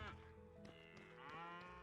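Cows in the farming video game Potion Permit, a few loud, close moos in quick succession with a low, droning tone.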